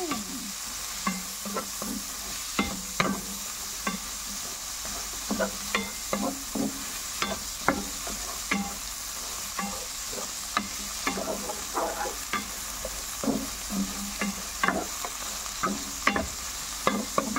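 Vegetables sauté with bagoong (fermented shrimp paste) in a pan, a steady hiss beneath repeated scraping and clacking stirs that come in irregular bursts, close and clear, with no talking.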